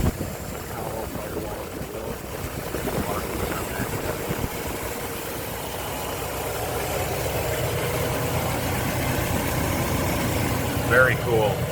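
A 1958 Pontiac Bonneville two-door hardtop idles smoothly and evenly, a low steady engine rumble heard up close with voices talking over it.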